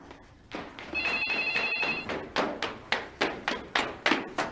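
A telephone rings indoors in a home, a repeated electronic trill in evenly spaced bursts that grows clearer and louder over several seconds, with no talk.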